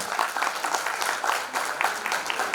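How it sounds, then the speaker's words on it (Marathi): Enthusiastic applause from a school reunion audience at a silver jubilee celebration, a dense, continuous wash of many hands clapping at steady loudness throughout, with no voices standing out. "जोरदार टाळ्या"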